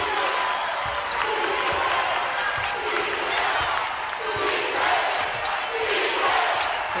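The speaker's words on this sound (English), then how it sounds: "You can hear the crowd chanting defense, getting into this game" Home crowd at a Georgia versus Kentucky women's college basketball game chanting defense in rhythmic, repeated waves, with ball bounces and arena noise underneath and a commentator's voice over it.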